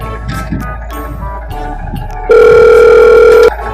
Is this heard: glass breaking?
no